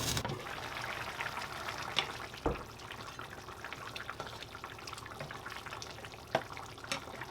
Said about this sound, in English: I'm going to add cold water, mix it very well, and put it inside the stew.